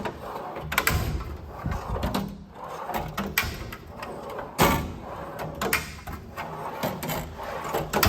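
Drawers on a piece of furniture slide open and shut several times, each with a smooth gliding rush and a soft knock or latch click as it closes, fairly close and with no talking.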